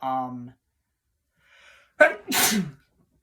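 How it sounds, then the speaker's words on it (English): A single sharp sneeze with a drawn-out exhale, close up, after a brief hum of voice and a short pause of near silence. "Sorry guys, I sneezed."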